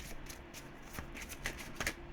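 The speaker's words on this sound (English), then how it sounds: "I'm just going to try and shuffle it a different way." A thin tarot card deck being shuffled by hand, giving a steady, quiet riffling and flicking of cards with a few sharper snaps, close and alone with no talking.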